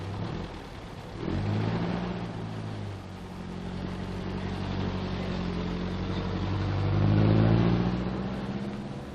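Engine of a cable laying vehicle moving off, a loud mid-pitched drone that rises, dips, then swells again as it pulls away, close and continuous with no talk.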